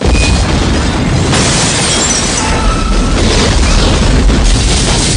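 A bomb explosion in an X-Files film scene roars as a dense, loud, sustained blast that fills the whole stretch, with no talking.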